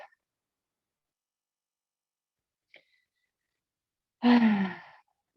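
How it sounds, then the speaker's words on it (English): A single deep exhale during a yoga session, close and fairly loud, breaking a near-silent stretch after a couple of tiny faint clicks. "Just letting out about 5 deep exhales."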